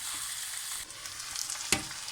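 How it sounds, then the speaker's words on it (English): Steady, close sizzling of chicken frying in a pan with masala, with a brief clink of a utensil stirring partway through. "this is 5 minutes of the chicken frying in the pan with the masala."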